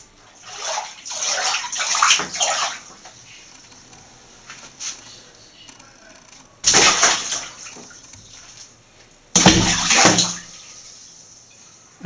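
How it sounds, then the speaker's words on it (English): Bathwater sloshes and splashes in a tub, several loud bursts of splashing separated by quieter stretches with gentle water movement and faint drips. "And now for the bath and some water games."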